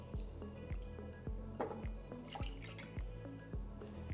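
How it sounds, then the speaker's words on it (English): Apple cider vinegar poured into a teriyaki sauce mixture, heard as a steady run of close, repeated liquid drips and plops with no talking. "Now I'm going to put a half cup of apple cider vinegar."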